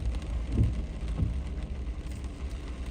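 Steady rain patters on the surroundings on a non-maintained rock-slide-prone road, a continuous wash of drops with a couple of soft low rumbles underneath.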